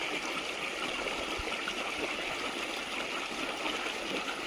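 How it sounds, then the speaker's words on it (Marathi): Strong, steady rush of water pouring under pressure from a 5 HP solar pump, a dense continuous roar with no voices. "5 HP सोलर पंप चालू आहे. हा पाणी पहा, एकदम खतरनाक प्रेशर आहे."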